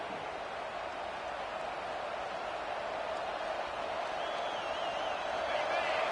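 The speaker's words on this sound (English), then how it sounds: "Listen to this crowd just shaking the girders of this place trying to help their defense." A football stadium crowd at an Ohio State game roars steadily as a dense, loud, continuous wall of cheering and noise, with a faint whistle-like tone rising near the end.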